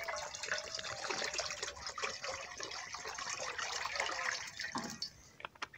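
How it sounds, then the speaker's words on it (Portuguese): Water poured into a frying pan outdoors to heat a lunch tin in a water bath: a steady, faint splashing trickle that runs throughout with no voices. "Vou colocar água aqui dentro que eu trouxe"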